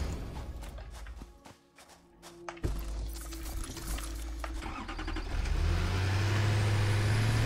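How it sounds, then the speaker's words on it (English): Tractor engine in the factory-building game Satisfactory: a steady vehicle rumble that swells into a louder, sustained drone over the last few seconds, with no talking. "because this tractor is so damn loud."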